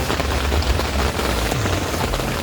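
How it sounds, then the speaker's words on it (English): Dense, steady rain pours down during a storm in Croatia in July, loud and constant, with a low rumbling undertone. "It was storm and a half out there."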